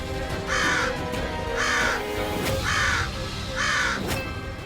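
Several crows caw in four loud, evenly spaced bursts at a Gujarati family home. Continuous background noise fills the gaps between the calls, and no one speaks.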